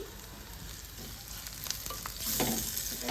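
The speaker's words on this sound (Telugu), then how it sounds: "పచ్చివాసన పోయేంత వరకు మంచిగా ఇది ఫ్రై చేసుకోవాలి" Masala frying in hot oil in a pan for a prawn fry, a steady soft sizzle with occasional stirring scrapes that grows a little louder toward the end, with no voices.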